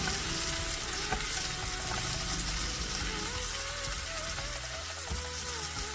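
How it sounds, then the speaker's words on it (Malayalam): Green chillies and tomatoes sauté in a pan for a green pea kurma, giving a steady close sizzle with light stirring scrapes, continuous and without speech. "ഇത് നമുക്ക് നല്ല രീതിയിൽ ഒരു പതിനഞ്ചോ ഇരുപതോ സെക്കൻഡ് നേരം ഒന്ന് വഴറ്റിയെടുക്കാം"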